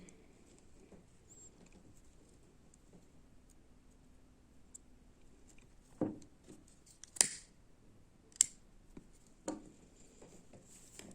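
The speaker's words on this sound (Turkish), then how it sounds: "Şimdi ipimizi buradan keselim." Scissors cut thread during needle lace work, a few crisp, close snips spaced a second or so apart against a near-silent background, with faint handling ticks in between.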